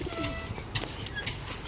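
A slate pigeon from Nankana Sahib gives a soft, brief coo, faint and close in a quiet setting, with a light flutter or rustle near the end.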